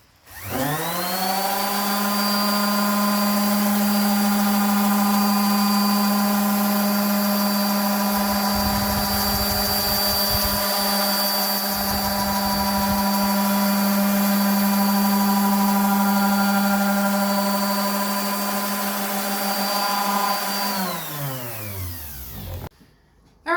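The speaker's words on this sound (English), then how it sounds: "So I'm just going to finish up sanding that" A power sander whines steadily for about twenty seconds, its pitch dipping briefly a couple of times as it presses into a live-edge ash wood tabletop, then winds down.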